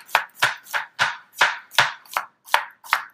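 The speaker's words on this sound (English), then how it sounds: "Cut it up, bite-sized pieces, just discs into the bowl." A knife chops yellow squash into bite-sized discs, eight crisp evenly spaced cuts knocking on a board at close range, with no talking.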